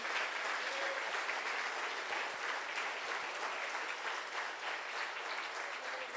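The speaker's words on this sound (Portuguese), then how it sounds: "Pode aplaudir ao Senhor" A church congregation applauds at a preaching service, a dense, even roar of many hands clapping that holds steady and moderately loud from start to finish, without speech on top.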